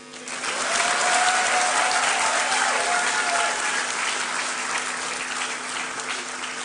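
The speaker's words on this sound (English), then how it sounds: "Will the guys applaud them?" Audience members at an onboarding and matriculation ceremony break into broad, sustained applause, a steady roar of many hands that swells early and holds through to the end.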